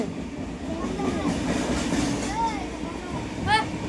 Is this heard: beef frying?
no